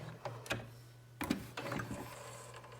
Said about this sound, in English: Almost to the end of my sewing here.